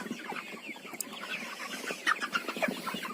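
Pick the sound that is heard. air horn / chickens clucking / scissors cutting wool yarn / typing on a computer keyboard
chickens clucking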